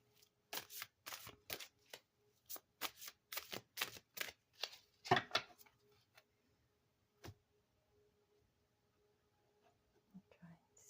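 Tarot cards riffle and snap in a quick series of close, crisp bursts, then go quiet, with a faint voice murmuring near the end.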